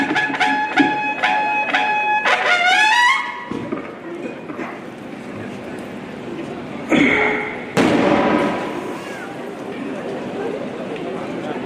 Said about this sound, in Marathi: हे जे फटाके वाजवणार बाबा,